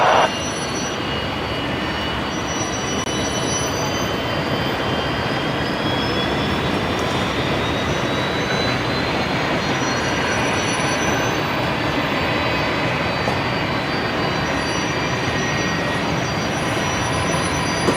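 A Qantas airliner, flight 633 bound for Melbourne, rolls for takeoff on runway 19 left at Brisbane Airport, a broad continuous engine roar holding steady and loud for the full length, with a faint rising whine threaded through it.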